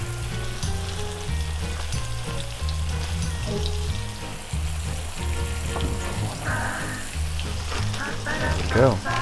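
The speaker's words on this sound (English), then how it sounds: "let them sit on the side and sizzle like this" Perch crackles and sizzles steadily in hot oil, with a rhythmic low bubbling underneath and a brief clatter near the end.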